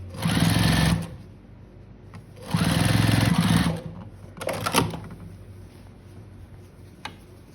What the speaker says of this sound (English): And then you just finish sewing the rest of the way through.